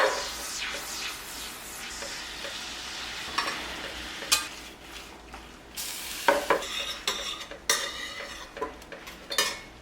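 Carbonara being stirred in a pan of sizzling pasta water, butter and wine, with metal utensils scraping and clattering against the pan in loud irregular bursts over a constant close hiss.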